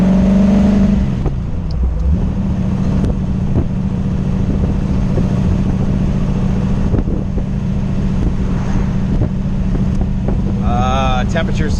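A Sunbeam Tiger with a swapped 289 V8 engine on a test drive, its loud engine droning and revving steadily from inside the car with wind noise, briefly shifting pitch near the end.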